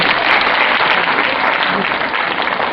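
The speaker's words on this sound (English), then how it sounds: "Clapping." Steady, dense applause from an audience at a personality development program, loud and continuous throughout with no break in the clapping.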